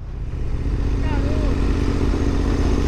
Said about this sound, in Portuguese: O escape está muito bacana, o escape.